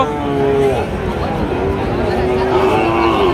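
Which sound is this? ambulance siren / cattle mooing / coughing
cattle mooing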